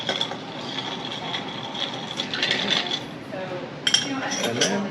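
A cocktail stirred with ice in a mixing glass gives a continuous close rattle of ice against glass and metal spoon, with brighter clinks near the end.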